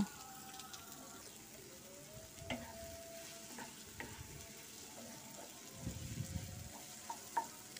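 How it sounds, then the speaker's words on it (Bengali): Chopped tomatoes and mixed vegetables fry in a pan for egg noodles. A soft sizzle runs under intermittent scraping and stirring from a spatula, up close, with no voices. "এবার এর মধ্যে টমেটো কুচি দিয়ে নিলাম। সবগুলো আর কিছুক্ষণ একটু ভেজে নেব।"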